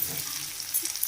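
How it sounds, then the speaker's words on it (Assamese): Onions fry in a pan for egg curry, giving a soft, steady close sizzle with faint crackles over about a second. "এয়া পিঁয়াজখিনি এনেকৈ মই ৰংচুৱা হোৱাকৈ ভাজিব লাগিব"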